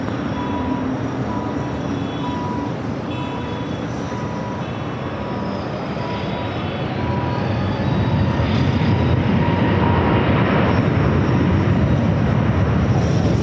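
A Southwest airliner on its takeoff roll from runway 24 left at Los Angeles International Airport, a broad jet roar that swells louder over the second half, with faint tonal beeps and hum layered on top.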